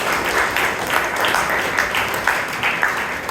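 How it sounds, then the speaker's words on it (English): Applause from a Toastmasters club meeting audience in Bangalore for the table topics speakers: steady, dense clapping from many hands, fairly close, filling the whole stretch with no talking over it. "give all the table topic speakers a big round of applause"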